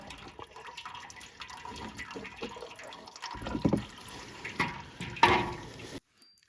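Motor oil pours from the drain of a 2020 Can-Am Outlander 570 ATV into a catch pan, a steady liquid trickle and splash close by that swells to louder gushes near the end before cutting off.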